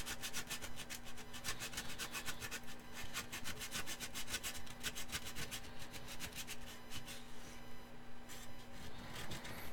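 Sandpaper rubbed by hand in quick back-and-forth strokes during a glass construction build, making a close, steady scratchy rasp with an even rhythm that runs almost unbroken and grows rougher and less regular near the end.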